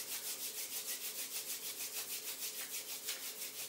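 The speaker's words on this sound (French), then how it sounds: "on frotte les mains" Two hands rub briskly together in a steady back-and-forth rhythm during a Qi Gong warm-up, giving a dry, close swishing friction with no voice over it.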